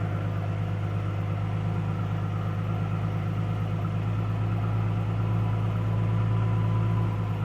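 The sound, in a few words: 2007 Mustang V6 exhaust with junkyard muffler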